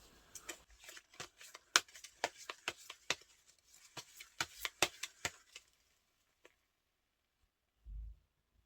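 Tarot cards being shuffled and drawn, a run of quick papery riffles and soft slaps close by for several seconds, then stillness broken by a single faint tap and a low thump.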